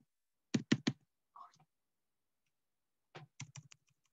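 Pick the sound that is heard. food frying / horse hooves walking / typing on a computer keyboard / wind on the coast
typing on a computer keyboard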